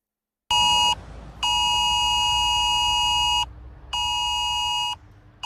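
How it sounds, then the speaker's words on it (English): The UK government emergency alert tone blares from a smartphone in loud, harsh buzzing bursts: one short burst, then two long sustained ones separated by brief gaps, with a faint low hum underneath and no speech. "That is what the government's new emergency alert system sounds like."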